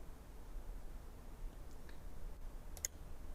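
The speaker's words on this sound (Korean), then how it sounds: "클릭, 알비 클릭, 클릭, 클릭, 알비 클릭 확인합니다" Sparse computer mouse clicks, left and right buttons, while working in Autodesk Inventor assembly software; a few quiet, sharp ticks stand out late against a faint background hiss.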